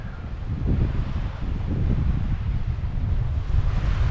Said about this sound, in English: the sound there of the ocean